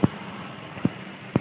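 Steady rain patters on a surface, punctuated by a few louder drops or thumps.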